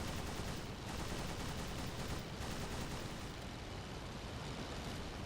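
Machine gun fire from a World War I Roland C.II two-seater in the Rise of Flight game, heard as a dense, continuous rattling roar, loud and unbroken, blended with engine noise and no talk.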